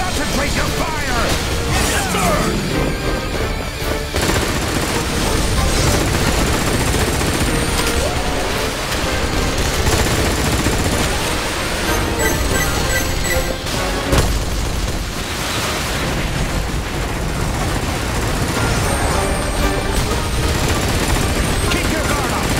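Dense, continuous battle din from Earth Defense Force 6: heavy gunfire and booming blasts layered under game music and shouted radio voices, loud and unbroken throughout.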